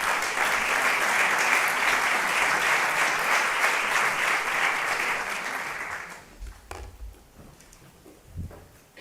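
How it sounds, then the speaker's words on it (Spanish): Audience applause in an auditorium at a public administration conference, a dense crowd of clapping that runs loud for about six seconds, then fades into a few scattered claps and room noise. "le doy paso a Ricardo, un fuerte aplauso para él"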